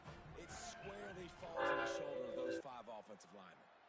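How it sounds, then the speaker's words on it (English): A passing train in a football video game sounds a loud horn for about a second, a sustained harmonic blare over the crowd and game noise, with a voice talking underneath. "Holy train."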